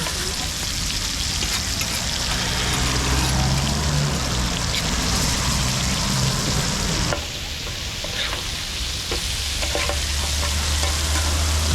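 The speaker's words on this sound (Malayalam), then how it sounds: "നമ്മുടെ മീനിങ്ങനെ മറിച്ചിടുവാണ്." Fresh sea fish half-fried in hot oil in a pan at Dhanushkodi, a loud continuous sizzle close by, with a sharp shift partway through as the pieces are turned over.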